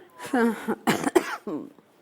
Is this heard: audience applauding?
no